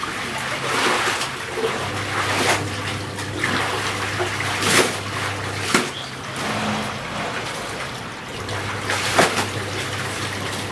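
Continuous sloshing and splashing of water as a dyed Balinese sarong is washed through it, plus intermittent low hum and occasional sharper splashes.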